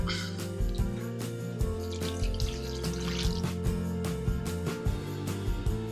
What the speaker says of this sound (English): we're going to pour our dressing over top